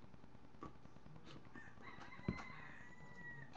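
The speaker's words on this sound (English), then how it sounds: "that's a rooster" A rooster crows outdoors, faint and distant, heard softly in the background of a quiet setting.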